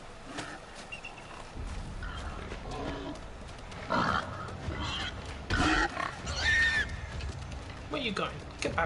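A wild animal snorts and grunts in Far Cry Primal, several rough bursts at irregular intervals, fairly close, with someone speaking in between.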